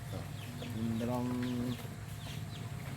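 Chickens cluck close by, with one drawn-out tonal call in the middle, while someone talks over them.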